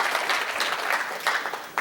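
Audience applause at an evening talk, a steady wash of clapping from a crowd that holds for nearly two seconds with a few sharper bursts, fairly loud and close, with no talking over it.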